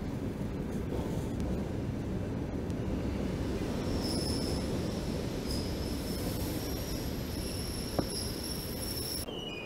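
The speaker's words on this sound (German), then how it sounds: "So, jetzt werde ich mal mit der U-Bahn fahren." A Moscow metro train arriving at an underground station, a steady loud rumble of wheels and car noise with faint high squealing overhead, and no talking.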